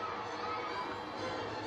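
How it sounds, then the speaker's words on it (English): Crowd of cars cheering at a race in the Cars movie, a steady, dense wash of distant roaring cheers and shouts that holds level throughout without a break. "All the cars are cheering."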